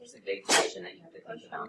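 A single sharp sneeze bursts out in a calculus lecture classroom, loud and brief, surrounded by a lecturer's ongoing speech.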